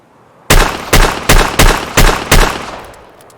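Rhino revolver in Escape from Tarkov fired in double action: six loud, sharp shots in a steady rhythm about half a second apart, each with a short ringing tail, the last fading out.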